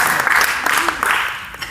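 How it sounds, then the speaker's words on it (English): An audience claps for two volunteers returning to their seats after a straitjacket magic act, a brief burst of dense applause with crowd noise mixed in. "Give them both a big round of applause as they go back to their seats."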